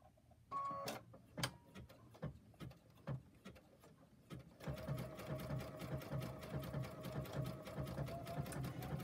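Domestic sewing machine running a decorative stitch, with a few slow separate needle thumps and clicks at first, then a fast steady rhythmic whirring and tapping that continues to the end, fairly faint and close.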